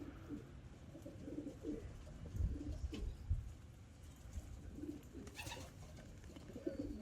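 Young pigeons, a Thai grizzle among them, coo softly and repeatedly while out pecking around on their first time outside, the calls low and close against a steady background hush.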